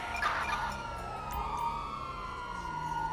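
Emergency vehicle siren in the video game GTA V, a wailing tone that sweeps up and down, close and prominent over background traffic noise, with no talking.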